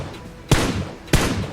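Two sharp gunshots ring out in a shooting video game as an enemy is taken down, the pair of loud, close shots about half a second apart over steady game background noise.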